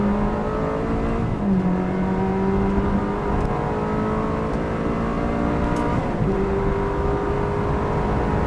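Ferrari 360 Modena engine pulling steadily while driving, a loud continuous drone with rising and shifting tones as it accelerates through gears, heard from inside the car without talk.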